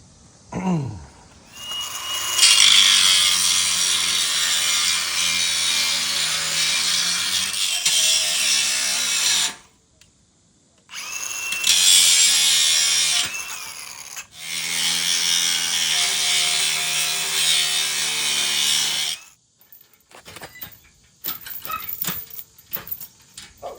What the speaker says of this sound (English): I'm gonna do the long route, which is to use my grinding wheel